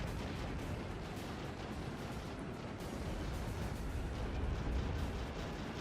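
Dense, continuous barrage of Javelin missiles exploding in the real-time strategy game Act of Aggression, a steady roaring wall of overlapping blasts and crackling bursts with no pauses.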